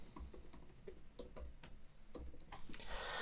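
Keys clattering on a computer keyboard while a Wi-Fi password for a Netgear Nighthawk RAX30 router is entered, a quick irregular run of close, crisp taps that gathers into a denser burst near the end.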